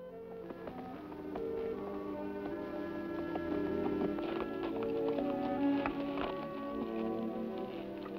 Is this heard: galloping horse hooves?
yes